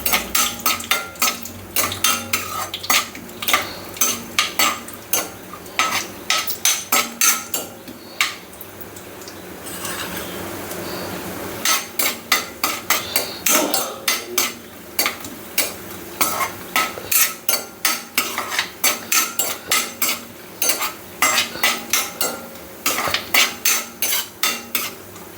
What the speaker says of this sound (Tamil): நெய் ஊற்றிட்டு எடுத்து வச்ச முந்திரி பருப்பு போட்டு தனியாக வறுத்து எடுத்து வச்சுக்கணும்.